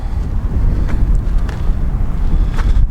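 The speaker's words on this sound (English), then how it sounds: "It is a little windy out here, so bear with me." Loud, low buffeting wind rumbles against the microphone in continuous gusty bursts outside a parked van, with no voices.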